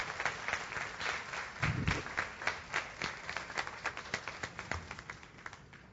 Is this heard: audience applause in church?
yes